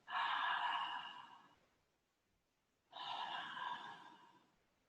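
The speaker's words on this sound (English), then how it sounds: "you'll be feeling that ujjayi kind of oceanic breath coming into play" Two long ujjayi yoga breaths, drawn through the nose with the mouth closed, each a steady oceanic hiss lasting over a second, separated by a short pause, close and clear with no talking.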